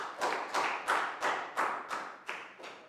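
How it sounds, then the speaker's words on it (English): A class of Year 3 pupils claps together in a short round of applause, seven even, rhythmic bursts of hand claps close by with no talking. "Big round of applause."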